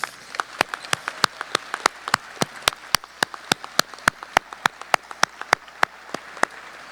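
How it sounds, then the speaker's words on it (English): Sharp, evenly spaced claps close by at a high school graduation ceremony, sounding as families are applauded, with a steady rhythm of individual claps over a quieter background of scattered crowd clapping. "let's give a big round of applause to the people who allowed us to experience this wonderful high school journey"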